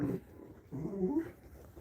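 A small dog whimpers and whines softly in two short bursts at close range while its ears are being stroked, with quiet pauses in between.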